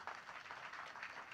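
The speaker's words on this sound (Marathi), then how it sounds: "एकदा या बालगोपालांसाठी जोरदार टाळ्या वाजवा" An audience applauding for children at a devotional kirtan gathering, a continuous faint wash of many hands clapping at a distance.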